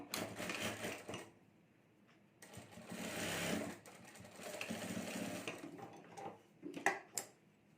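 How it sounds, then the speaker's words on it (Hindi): Sewing machine stitching crosswise across a homemade sling bag, quiet short whirring runs broken by brief pauses and a few clicks, close by but faint. "यहाँ हमें क्रॉस में सिलाई करनी है।"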